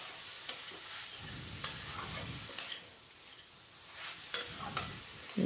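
A spoon stirs a coconut and sugar mixture in a pan over low gas heat, giving soft scraping strokes with faint sizzling and a few sharp clicks against the pan, close and fairly quiet.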